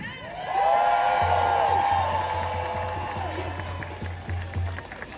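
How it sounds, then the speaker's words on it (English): A rally crowd applauds and cheers for Chicago youth at an outdoor No Kings protest, steady broadband clapping with whoops rising over a low rhythmic drone, held for several seconds at moderate loudness. "So let's give a round of applause for them"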